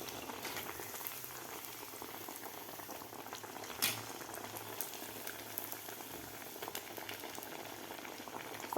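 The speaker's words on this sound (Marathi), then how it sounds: "गोल्डन कलर होईपर्यंत आपल्याला हे वडे तळून घ्यायचे आहेत, चांगले क्रिस्पी होईपर्यंत." Sabudana vadas fry in hot oil, a dense, steady sizzle and bubbling that holds at an even level throughout with one brief louder pop.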